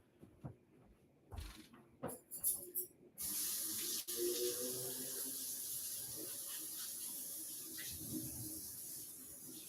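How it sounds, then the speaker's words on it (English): Tap water runs steadily into a sink as hands are washed, a close continuous hiss with splashing shifts, preceded by a few knocks and handling sounds. "Let me wash my hands."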